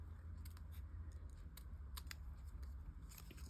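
Quiet, irregular snips of sticky scissors cutting paper for a card, a handful of short crisp clicks over a low steady hum, no voices.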